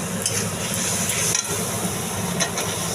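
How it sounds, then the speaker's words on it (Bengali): Spice paste being fried and stirred in a hot pan for a cabbage and mung dal dish, a steady loud sizzle with repeated scraping strokes of the spoon running throughout. "এবার আঁচটা বাড়িয়ে মশলাটা কষিয়ে নেব।"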